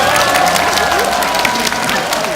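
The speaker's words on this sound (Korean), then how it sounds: "시민 여러분, 다시 한번 뜨거운 박수 보내주시기 바랍니다." A crowd at an outdoor political campaign rally for candidate Hong Joon-pyo in Daegu bursts into loud, dense applause mixed with cheering, sustained without a break across the whole moment.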